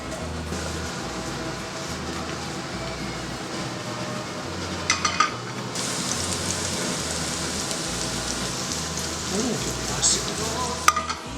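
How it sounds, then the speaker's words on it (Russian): Mushrooms frying in butter in a pan for a mushroom risotto make a steady, close sizzle with a rain-like patter and occasional stirring clatter. A low rhythmic hum runs underneath, and no one speaks. "Я их просто еще немножко пожарю и туда же пойдет. Сливочное масло."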